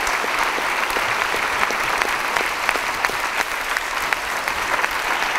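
An audience applauds steadily after a set of dance performances at a lecture on posture, balance and coordination, a dense, even clapping from a crowd that fills the room with no voices rising above it.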